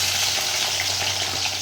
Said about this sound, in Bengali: আমি এই পেঁয়াজগুলোকে কড়ার মধ্যে ভাজতে দিয়ে দেবো। তেল দিয়ে দিয়েছি আমি কড়াতে।